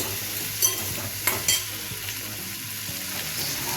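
Chopped onion, garlic, tomato and chili frying in a pan in a home kitchen, a steady soft sizzle with a few sharp clinks and scrapes of stirring, close by, no talking.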